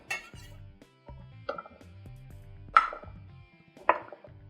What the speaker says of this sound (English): So I'm just going to cut maybe 1-inch cubes.